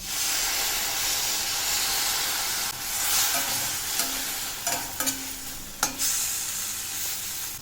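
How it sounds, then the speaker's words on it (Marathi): Loud, steady sizzle of spice paste frying in oil with a little water added, with bursts of sputtering and a few clinks of stirring; no talking. "तर चांगलं तेलात हा मसाला आपण भाजून घेऊया."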